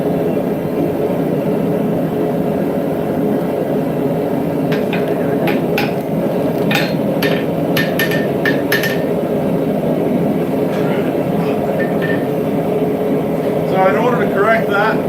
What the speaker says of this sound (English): I can use the heel of my hammer,